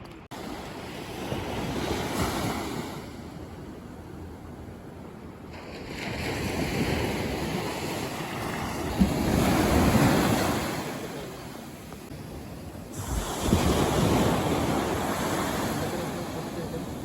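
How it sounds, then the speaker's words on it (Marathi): Surf at an uncrowded beach in Niigata, Japan near sunset: waves roll in and wash out in slow, repeating surges, with steady wind buffeting the microphone between them. "आता आपण आलोय बीचला."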